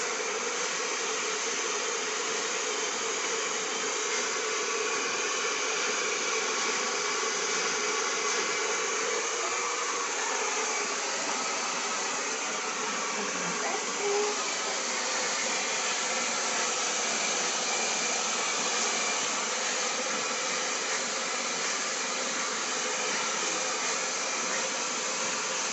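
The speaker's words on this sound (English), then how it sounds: "I always end off my blow dries with on cold setting" A hair dryer blows steadily on hair during a salon blow-dry after a layered haircut, a continuous close whooshing roar that holds for the whole stretch with no talking.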